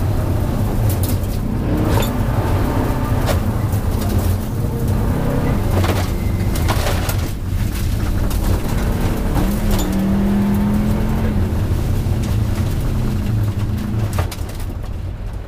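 A Subaru rally car prepared by Vermont Sports Car runs a forest stage at the Tall Pines Rally, its engine droning loud and continuous with shifting pitch throughout.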